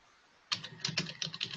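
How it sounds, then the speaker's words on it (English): Typing on a computer keyboard during an online screen-sharing session: quick irregular clusters of sharp clicks start after a quiet pause, close and fairly loud, with no talk over them. "I can type things."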